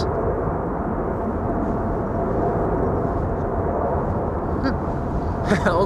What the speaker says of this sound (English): All of a sudden the wind starts picking up. That's the jet wash.